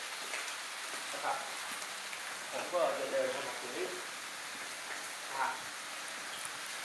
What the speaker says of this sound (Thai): ตอนนี้ฝนเริ่มตกปล่อยๆ